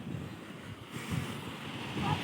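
Sea waves wash onto a beach where friends are bathing, a broad, steady roar of surf mixed with wind buffeting the microphone, swelling slightly toward the end.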